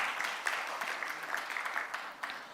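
Audience at a development cooperation conference gives a round of applause: moderate, steady clapping from a good-sized crowd, with a few sharper individual claps standing out, heard at some distance.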